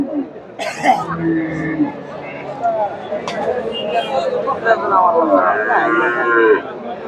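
Cattle low at Chandaikona cattle market among milk cows and calves, the moos mixed into close, loud talking and general market bustle.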